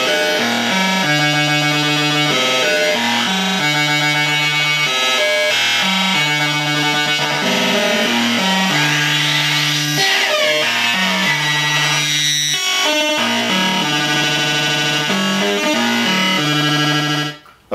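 Synthrotek Atari Punk Console Eurorack module blended with an oscillator, playing a loud buzzy, distorted square-wave tone that steps through a repeating pattern of pitches, continuous and harsh until it cuts off at the end.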